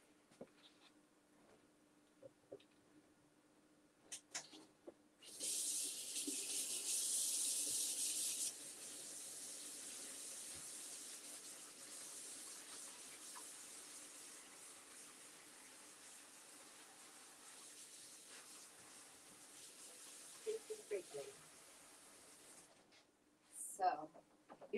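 Water runs from a tap into a sink while woodworm-damaged wood is treated before painting with Dixiebelle paint, a steady broadband rush lasting many seconds with a louder burst at its start, and brief clatters and faint voices before and after.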